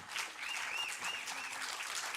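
Applause for students at a national exam results announcement, a steady wash of clapping heard at a distance, fairly faint, with a thin electronic whine drifting over it.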